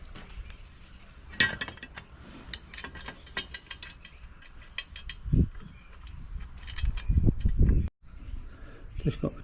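A hand ratchet tightening two 10mm head bolts on a mini bike header pipe, quick clicking pawl strokes in short runs with metallic clinks and some handling thumps, close by.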